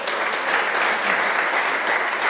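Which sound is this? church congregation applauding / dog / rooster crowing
church congregation applauding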